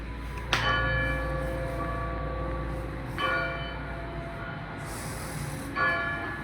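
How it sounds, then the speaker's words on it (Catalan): Church bells ring out in three separate strikes, each a loud, bright clang with long ringing overtones that fade slowly, spaced a few seconds apart over a steady low background hum. "I les campanes, però no..."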